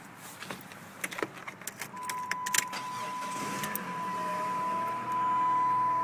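A PT Cruiser with a strange engine noise cranks through a series of clicks and clunks, then catches and settles into a steady hum with a thin whine, idling a little high.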